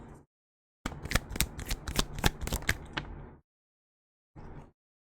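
Tarot cards riffle-shuffled up close, a rapid burst of crisp flicking snaps lasting a few seconds, followed after a pause by a short shorter shuffle.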